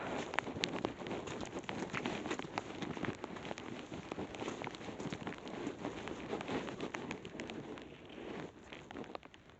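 Steady rain patters down all around during an outdoor walk, a dense continuous hiss of drops hitting surfaces, fairly close and even throughout with no talking.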